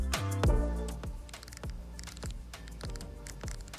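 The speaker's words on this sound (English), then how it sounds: "Nice clicking dial." The control dial on a Sigma BF camera clicks close up in a quick run of crisp detents, a louder burst at first followed by steady lighter clicks.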